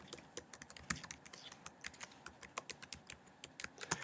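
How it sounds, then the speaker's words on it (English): Rapid, quiet keystrokes on a computer keyboard, a steady stream of close clicks with uneven rhythm and no talk over them. "you're going to type two pieces of information."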